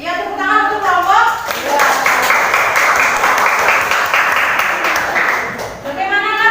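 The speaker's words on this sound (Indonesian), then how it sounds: "tepuk tangan untuk kelompok" A classroom of students applauding a student group, dense rapid clapping swelling for several seconds, with a voice speaking just before and after.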